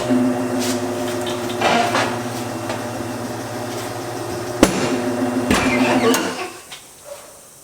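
A tire changer machine mounts a tire with a steady mechanical whir, broken by sharp clanks and knocks close by, before the motor winds down and stops.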